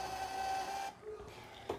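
A 58mm POS thermal receipt printer runs a short print job, its steady whirring feed clearly audible for about a second before it stops, followed by quieter handling noise and a small click near the end.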